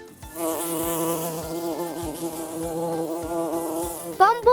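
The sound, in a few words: bumblebee buzzing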